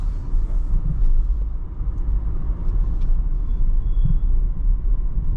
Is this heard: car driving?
yes